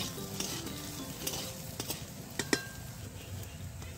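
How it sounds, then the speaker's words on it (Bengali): Potato pieces frying in mustard oil with a little salt and turmeric: a steady close sizzle, with occasional light clinks and scrapes as a utensil turns them in the pan. "আলুগুলোকে লাল করে ভেজে তুলে নেব।"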